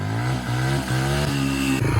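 A dirt bike fitted with an oversized rear sprocket revs hard as it launches in fourth gear, its engine note holding loud and steady with brief dips between pulls, close to the listener.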